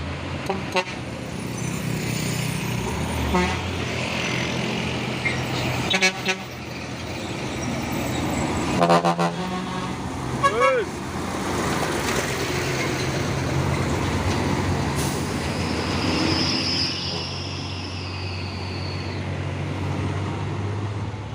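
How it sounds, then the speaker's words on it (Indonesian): Road traffic rumbles by, with a heavy Fuso truck carrying heavy equipment passing close and a couple of short horn toots cutting through. "Dan ini juga ada 1 nih truk Puso membawa alat berat."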